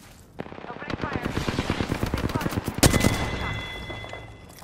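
Rapid automatic weapon fire from the Apex Legends battle royale game rattles in a long sustained burst that builds and then fades, with a sharp louder shot near the end, no voices.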